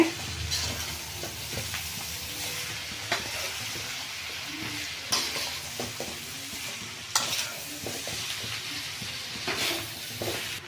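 Egg noodles sizzle and fry in a pan over a high flame, with a steady hiss throughout and a spatula scraping and stirring at intervals, close and fairly loud, no talking.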